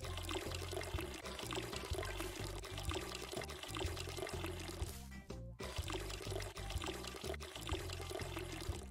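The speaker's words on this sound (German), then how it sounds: "ich muss gießen." Watering plants in the video game Weed Shop 2, a steady pouring and splashing water effect that runs almost unbroken over a thumping beat, with one brief drop-out midway.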